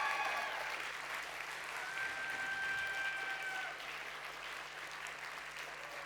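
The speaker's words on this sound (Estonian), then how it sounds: "Teeme neile suure aplausi." An audience at the MURG Playbox 2024 event gives the performers a round of applause, with steady, moderately distant clapping that holds throughout and eases slightly near the end.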